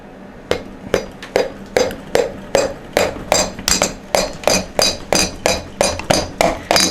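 Repeated sharp rubber mallet taps, about two per second and steadily paced, each a crisp knock driving a piston into a barrel during a classic Fiat 500 or 126 engine rebuild, close by.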